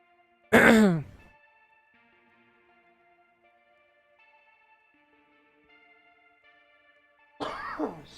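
Two harsh coughs from cold dry air, one near the start and one near the end, separated by a long quiet stretch with faint background tones.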